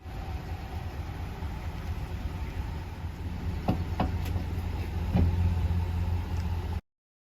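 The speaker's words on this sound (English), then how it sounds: "we're going to back up to the hitch" A vehicle backs slowly toward the hitch of a camper bunkhouse trailer, its engine giving a steady low rumble with a few faint knocks and clicks before the sound cuts off abruptly.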